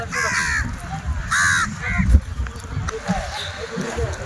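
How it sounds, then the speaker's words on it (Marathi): Crows eating popcorn on a South India trip give two clear, harsh caws close by, with a busy outdoor background of movement and low voices. "सर्व कावळे पॉपकॉर्न खाण्यामध्ये दंग झाले."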